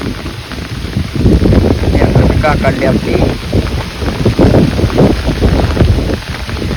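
A heavy rain shower pours down outdoors, a loud continuous hiss mixed with gusty wind buffeting the microphone, while someone talks over it.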